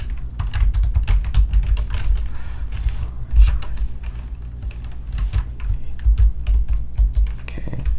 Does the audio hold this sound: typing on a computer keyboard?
yes